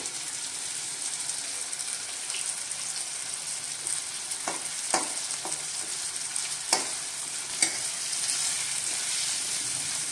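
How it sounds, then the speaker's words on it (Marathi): Cumin seeds sizzle steadily in hot oil in a pan where tomato is being fried for a vermicelli dish, a continuous bright crackle with a few sharper pops and spatters scattered through it. "त्याच्या तेलामध्ये मी थोडे जिरे टाकते"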